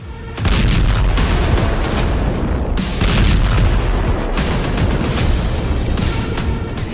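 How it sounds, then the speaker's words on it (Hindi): Dense, continuous rumbling blasts and crackling bursts of bomb-like explosions, loud and relentless, with sharp flares of noise throughout and no voices. "इनको ऐसे ऐसे बमों से लैस किया गया है जिनके ऐसे धमाके हो रहे हैं"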